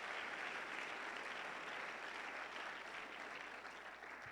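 A church congregation claps in sustained, dense applause that stays fairly even for several seconds, heard from a distance and fairly faint, with no speech over it.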